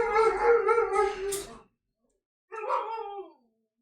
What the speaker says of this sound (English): Or we just hear dogs.